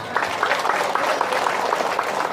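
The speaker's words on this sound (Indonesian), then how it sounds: "Tepuk tangan dulu" A crowd at a speech claps in a brief, steady burst of applause, moderately loud, with individual claps audible through the dense texture.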